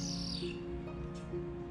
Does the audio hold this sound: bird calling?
yes